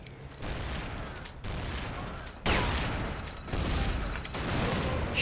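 Repeated bursts of gunfire in the action game Tomb Raider: Legend, several dense volleys of shots in quick succession at fairly steady loudness, with no talking.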